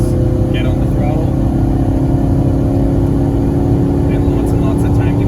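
A car accelerates down a long racetrack straight under steady throttle, its engine a loud, continuous mid-pitched drone held at high revs throughout, close and unbroken, with a voice talking over it.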